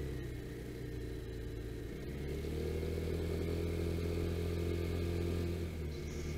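A Vespa scooter cruises along a well-built road in the Ardennes, its engine a steady close droning hum with constant road rumble and wind, no talking.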